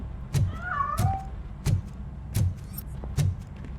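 Cat meowing in the video game Robocop Rogue City, a few short mewing calls heard up close over a steady low in-game hum, with soft thumping footstep-like sounds recurring roughly every second.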